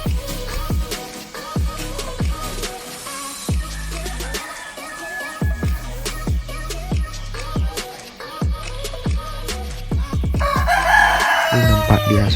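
Chickens in a small coop of about three square meters, seven birds with two of them sick, cluck and a rooster crows amid a busy, rhythmic run of sounds that grows louder toward the end.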